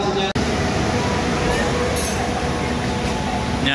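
Indonesian passenger train Argo Lawu pulling out of Solo station bound for Senen, Jakarta, a steady broad rumble of rolling cars with brief high squeals and clanks, heard from inside.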